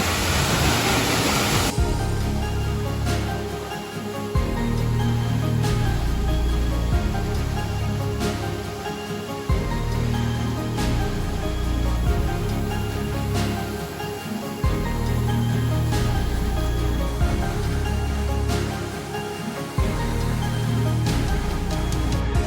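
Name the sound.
waterfall roaring with spray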